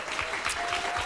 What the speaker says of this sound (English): All right, how about a round of applause for Sajae?